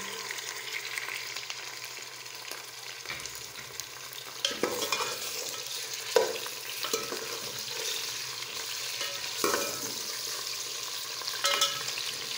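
Chicken pieces fry in a pan with browned onions, a steady low sizzle broken by scraping stirs and occasional louder clatters of a spoon, fairly quiet with no talk.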